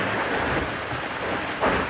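Heavy rain pours down during a night squall at sea aboard a boat, a dense, loud continuous hiss and rumble with a brief gust-like surge near the end.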